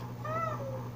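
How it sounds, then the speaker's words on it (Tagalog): A pet Persian cat in Alaminos, Pangasinan gives a single short rising-falling meow that resembles a spoken "hi", close and clear over faint background hum. "kinagigiliwan po online ang isang alagang pusa sa Alaminos, Pangasinan dahil sa kanyang kakaibang pagbati"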